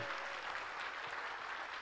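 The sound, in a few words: applause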